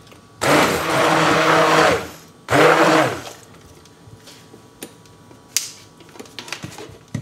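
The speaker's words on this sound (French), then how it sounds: "Et vous venez mixer pour obtenir vraiment un velouté." A blender purees chestnut soup with milk into a smooth velouté: two loud, close motor runs, the first about one and a half seconds and the second shorter, followed by quieter clinks and handling sounds.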